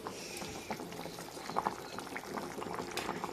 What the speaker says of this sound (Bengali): তো জলটা ফুটে গেছে